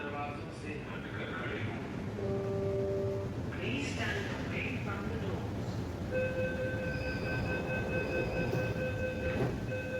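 An empty Delhi metro train stands at a station, with a continuous rail rumble, a chime and steady electronic tones partway through, while someone talks over it.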